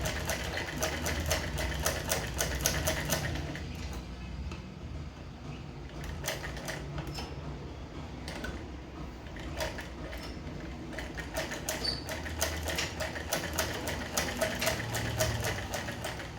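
A sewing machine stitching a shirt lining runs steadily and close for the whole stretch, a continuous fast mechanical chatter with slight pauses and changes in pace, no talking.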